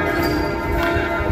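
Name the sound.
church bell ringing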